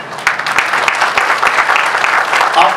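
A church congregation at a Sunday service applauds the choir, with close, loud, fast, irregular clapping from many hands filling the short stretch.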